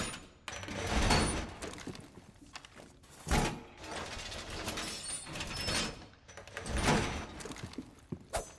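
Reinforcing a wall in a video game: heavy mechanical sliding and ratcheting sounds rise and fall in several long surges, loud and close, separated by brief quieter gaps.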